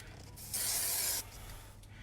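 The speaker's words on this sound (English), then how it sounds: "the back of this card a light spray with spray glue." Spray glue from an aerosol can hisses onto the back of a card in one steady burst of under a second. The spray is close and clear and sits between quieter moments.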